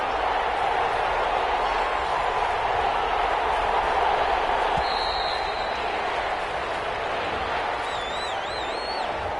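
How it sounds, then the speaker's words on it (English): Stadium crowd in a PS4 football video game, a steady roaring sea of cheering voices sustained throughout ahead of a big third down, with faint game effects above it. "the crowd getting into it as we come up on a big 3rd down"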